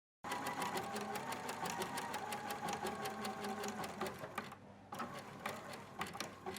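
A free-arm sewing machine stitches a coat sleeve cuff with a rapid, steady mechanical chatter of needle strokes. It runs close and continuous, pauses briefly, then resumes.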